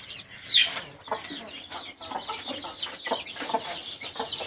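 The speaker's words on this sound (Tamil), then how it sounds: "கோழி இடத்துல உட்காந்துருக்காங்க." Chickens on a poultry farm in Chennai cluck and squawk close by in short, irregular bursts, with a sharp louder call early on and busy, overlapping bird sounds throughout.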